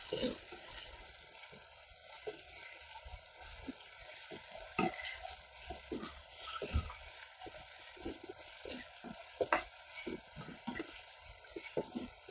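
Onions, green chillies, ginger and garlic sautéing in a pan with salt, a soft, fairly faint sizzle with irregular scrapes and clicks of stirring throughout, no voices.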